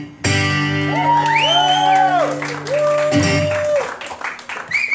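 A comedy show audience at A&W in 2020 erupts with loud whoops, shouts and applause, high cheering voices rising and falling over scattered clapping.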